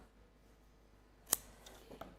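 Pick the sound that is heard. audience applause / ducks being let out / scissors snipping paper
scissors snipping paper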